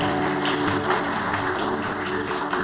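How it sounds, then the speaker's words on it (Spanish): Steady, dense clapping from a congregation at an evening church service fills the space at an even level, a continuous wash of hand claps without any talking. "Denle un fuerte aplauso a Cristo Jesús en esta hermosa noche."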